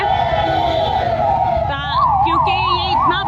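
An ambulance siren wails at the Maha Kumbh Mela, loud and near, first a steady tone then a fast rising-and-falling yelp, with a busy crowd and traffic beneath it.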